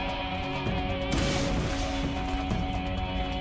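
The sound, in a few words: explosion from a weapon or grenade in the Borderlands video game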